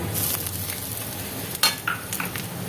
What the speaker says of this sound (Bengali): পেঁয়াজ ভাজা হয়ে গিয়েছে এবার আদা রসুন বাটাটা দিয়ে দিলাম